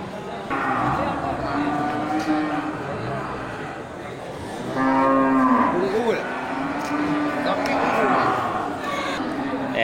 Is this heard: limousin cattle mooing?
yes